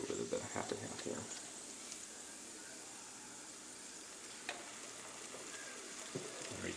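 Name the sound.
half and half added to omelette eggs cooking in pan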